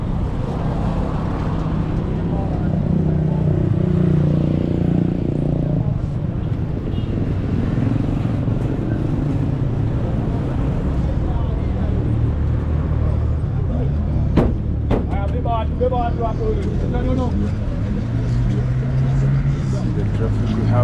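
Road traffic rumbles steadily in Nairobi's Donholm area on a blocked major road: a dense, continuous drone of engines from cars, buses and motorcycles, with occasional horn-like tones and clatter, and voices talking faintly amid the noise.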